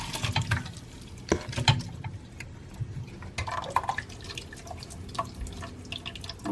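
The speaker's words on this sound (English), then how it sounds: "I'm going to go ahead and strain our plantains" Boiled plantains are strained as water drains and splashes in a kitchen, with irregular drips, patters and clanks of the pot close by.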